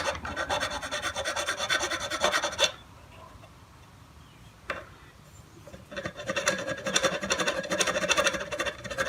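A hand file rasps burrs off a part from a 1962 Johnson 10 hp outboard motor. Close, steady back-and-forth strokes run for about two and a half seconds, then a quiet pause with one brief scrape, then the filing resumes.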